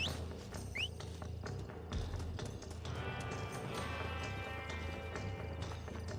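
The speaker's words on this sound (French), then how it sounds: "Oh, le cheval il est déterminé." A horse gallops in Red Dead Redemption, its hooves drumming a quick, continuous clip-clop under a low game soundtrack, moderately close throughout.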